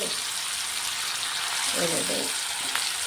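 Chicken lollipop kebab pieces frying in hot oil, a steady broadband sizzle running throughout at close range, with a brief muffled voice partway through.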